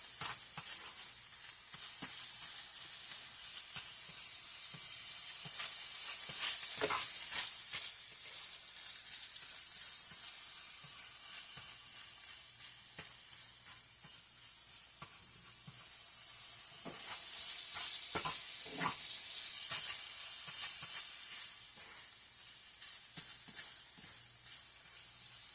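Chopped, cooked casserole ingredients sizzle in a pan on a stovetop burner. A steady, close hiss runs throughout, with scattered sharp crackles and pops and no talking.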